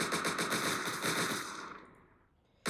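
Automatic gunfire in the video game Entry Point rattles in a rapid, loud burst that tapers away, followed by a single sharp shot at the end.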